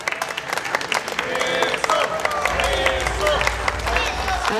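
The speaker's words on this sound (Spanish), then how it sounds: "Fuertes los aplausos a los novios." Wedding guests applaud the bride and groom, with loud, close clapping that swells into crowd cheering and excited chatter, and a low rumble entering partway through.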